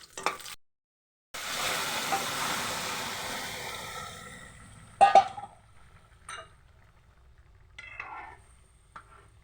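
Cumin, cinnamon, cloves, cardamom, dried red chilies and bay leaf frying in oil: a close sizzle bursts in and fades over a few seconds, followed by scattered clinks of a utensil against the pan.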